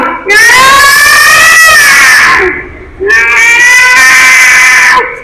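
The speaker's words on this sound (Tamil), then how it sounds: "ரெண்டு பூனை" Two cats fighting let out two long, loud, wavering caterwauls, each a drawn-out yowl of a couple of seconds separated by a brief dip, close and piercing.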